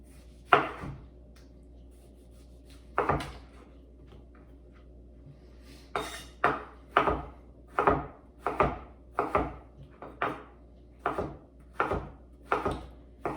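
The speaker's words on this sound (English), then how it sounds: "Gonna slice your tomato." A knife slicing tomatoes on a cutting board for pico de gallo, with a few spaced cuts and then a run of about ten steady, rhythmic thuds, close and alone.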